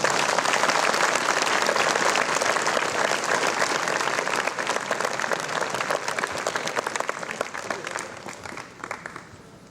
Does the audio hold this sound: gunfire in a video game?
no